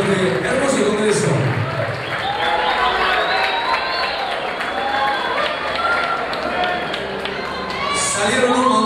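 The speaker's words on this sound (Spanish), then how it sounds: "Fuerte el aplauso para ellos también." Audience applauding loudly and steadily at a salsa congress in Buenos Aires, a dense wash of clapping with cheers that lasts throughout, while an announcer's voice speaks over it.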